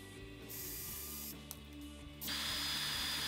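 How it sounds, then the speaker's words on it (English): A power drill bores out a screw hole in wood while building a bass trap for a home studio, a close steady motor whine that pauses briefly, then resumes and grows louder and higher under constant background hiss. "What I'm doing there is just drilling out the hole a little bit to make more room for the screw"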